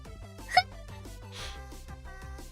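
One quick, faint hiccup pops out from a person over quiet background music from The Legend of Zelda: Ocarina of Time on the N64.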